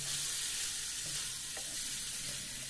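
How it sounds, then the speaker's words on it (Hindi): Homemade paneer made from split milk fries in a pan with a steady, close hissing sizzle and a few faint stirring taps, no voices. "उसी दूध के पनीर को मैं इसमें फ्राई कर लेती हूँ"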